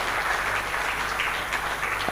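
Conference attendees at a forum on financing sustainable energy and agriculture infrastructure give a short burst of steady, moderately loud clapping to welcome a guest.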